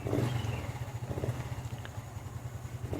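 A Honda Revo Fi motorcycle fitted with a new fuel injector idles at low RPM, giving a steady, close, rumbling engine pulse with a faint tick, heard alone and without talk.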